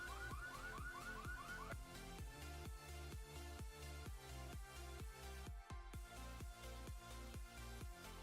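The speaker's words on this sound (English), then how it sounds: "As you guys would have just heard, the car alarm turning off" A car alarm in a video game blares in a fast repeating electronic pattern, steady and continuous, rising briefly at the start before settling into pulsing honks.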